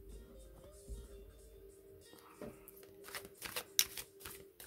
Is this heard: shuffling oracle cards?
yes